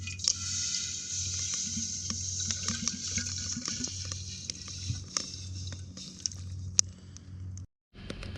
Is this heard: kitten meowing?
no